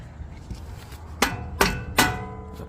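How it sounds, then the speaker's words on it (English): Three sharp metallic hammer blows, about 0.4 seconds apart, strike the nut on an Infiniti M45 axle in a garage. Each blow rings briefly over a low background hum. No voices. "when you hit it, the nut takes the impact and not the thread pitch itself"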